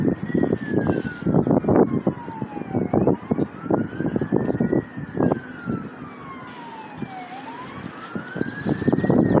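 San Francisco fire trucks approaching with wailing sirens that rise and fall in long sweeps, loud and close over rumbling street noise and bursts of horn blasts.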